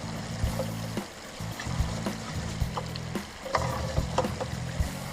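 Clean water is drawn into a camper caravan's fresh-water tank, making a continuous gurgling trickle with scattered small knocks and splashes, fairly quiet and steady throughout with no talking.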